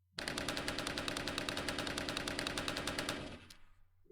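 Rapid automatic gunfire from a modular firearm in the NeoFPS shooter game, a loud, steady stream of evenly spaced shots lasting about three seconds before cutting off, with a brief tail and a faint click afterward.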